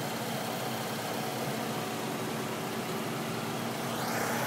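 A 2010 Mazda 3 engine idling very quietly, a smooth, steady low hum with no ticks or knocks, constant and even at close range.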